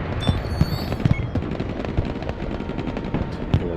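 In the video game Broken Arrow, a Vulcan rotary cannon fires in quick, repeated bursts of sharp cracking gunfire, with scattered louder booms punching through a continuous battlefield din.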